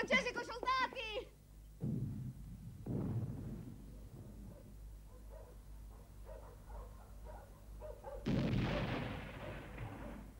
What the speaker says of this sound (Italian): Hai sentito? È il cannone.